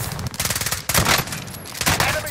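Several loud, close shotgun blasts in the video game Warzone, a rapid cluster of booming shots separated by brief gaps.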